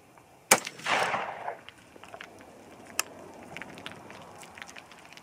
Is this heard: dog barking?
no